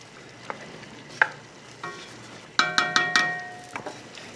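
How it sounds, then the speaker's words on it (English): Wine simmers with turkey rolls in a pan as the alcohol cooks off, giving a low steady sizzle broken by several sharp metallic clinks of a utensil against the pan, with no talking. "that's why before I add any other liquid, I'm letting the alcohol dissipate"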